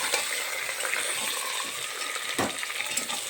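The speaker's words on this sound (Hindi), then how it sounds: "इस तरह से सारे मटन को हम डाल करके अच्छी तरह से एकदम भूनते जाएंगे" Mutton pieces frying in a pot with onions for a khara masala stew, giving a steady, close sizzle and crackle with a brief stir or scrape of the spoon partway through; no voices.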